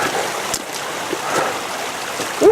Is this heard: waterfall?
yes